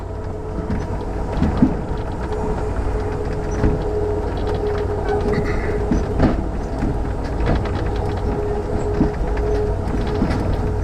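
Amtrak Empire Builder passenger train rolling on rails through North Dakota, a loud, continuous rumble with steady wheel clatter and rhythmic track clicks heard from inside the car, with no talking.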